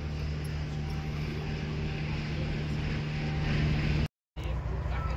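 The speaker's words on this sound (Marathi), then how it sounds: "चला फायनली बोटचं इंजिन स्टार्ट झालेलं आहे" A ro-ro ferry's engine drones low and steady at sea, a constant loud rumble with wind buffeting the microphone, broken by a brief moment of silence near the end.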